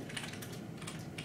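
Typing on a computer keyboard during a coding session, a quick run of soft, close key clicks at low volume with no voices.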